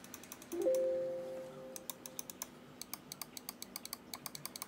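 An AOC AGON AGM600 gaming mouse has its left and right buttons pressed repeatedly, giving a fast, even run of crisp, close clicks after a brief tone near the start.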